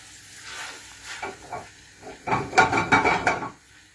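Red rice with tomato in a pan, with scraping and stirring sounds first and then a louder burst of sizzling and bubbling that fades out.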